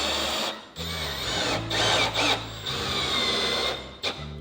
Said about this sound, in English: So as we're screwing this down,